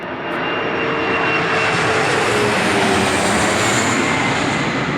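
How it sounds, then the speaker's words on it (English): An airplane flies overhead with a loud, continuous broadband engine roar that fills the whole span, building slightly and staying close and dominant with no voices. "Here comes a plane."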